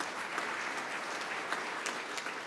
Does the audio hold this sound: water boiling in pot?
no